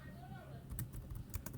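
Brief bursts of typing Java code on a computer keyboard, a few quiet clustered keystrokes in the second half, heard under a voice talking.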